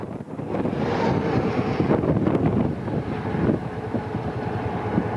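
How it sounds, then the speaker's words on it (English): Strong Patagonian wind buffets a microphone continuously, a loud broadband roar with rumbling gusts that swell and ease throughout, no voices present. "the Patagonian wind says hello to me, like this"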